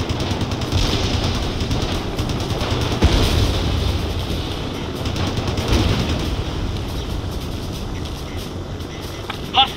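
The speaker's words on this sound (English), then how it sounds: "Fire guns." Sustained gunfire from a video game mission in Motherland, dense and continuous throughout, with a few louder bursts rising out of the steady barrage.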